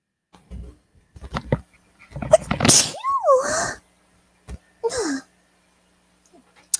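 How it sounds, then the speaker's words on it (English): A sharp sneeze bursts out, followed by short high squeaky vocal sounds and a couple of quieter breaths, close by. "Hate them sneezes."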